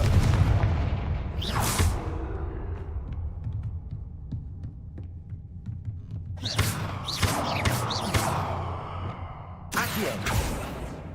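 Confringo blasting-curse explosions in the game Hogwarts Legacy, several loud booming bursts with a heavy low rumble, the first early and a cluster of hits near the end.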